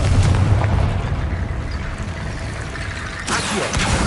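Confringo blasting spell from Hogwarts Legacy going off as a broad, rumbling explosion that swells, then decays into a sustained roar before a second burst near the end; loud and close with no talk.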